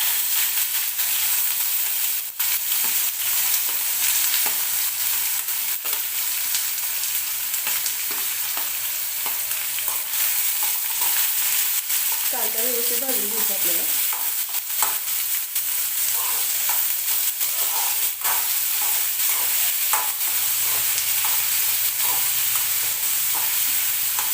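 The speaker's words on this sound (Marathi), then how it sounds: "बघा कांदा भाजते आपल्या व्यवस्थित" Onion fries in a pan with cumin seeds and curry leaves for an onion tomato chutney, a loud continuous close sizzle with scattered spatula clicks and stirring, and no talk.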